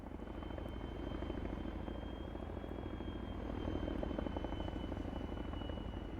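A Chinook helicopter in the video game Arma 3 gives a continuous heavy rotor drone with a rhythmic thudding beat, steady and fairly near, with no voices over it.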